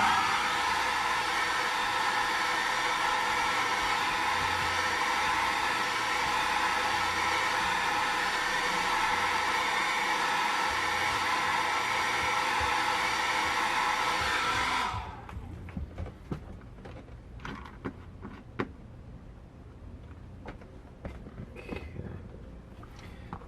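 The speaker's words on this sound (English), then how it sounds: "I'm going to blow dry that." A hair dryer blows steadily and loudly for about fifteen seconds while drying slow dry medium on a painting, then cuts off abruptly, leaving quiet brush and handling noises.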